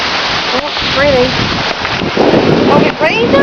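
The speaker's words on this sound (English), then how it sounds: "Oh, it's raining." Rain pours down hard during a big storm, a loud constant hiss of drops on surfaces with some splashing, while a person talks and exclaims over it.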